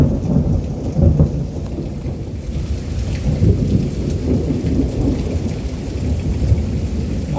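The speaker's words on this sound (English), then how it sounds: "that lightning got close" Close thunder rumbling during a night thunderstorm in Pittsburg, Kansas, a loud, deep, rolling roar over heavy rain pattering steadily on surfaces for several seconds.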